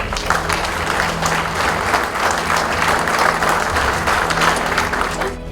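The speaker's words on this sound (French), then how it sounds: "On peut les applaudir aussi très très fort." Sustained applause from a large crowd at a carp fishing championship finals awards ceremony in France, steady and loud throughout with dense clapping and no pauses.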